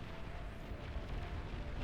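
Deep explosion of a commander unit in the real-time strategy game Supreme Commander during a naval battle, a dense low rumbling roar that sustains steadily for under two seconds without clear breaks.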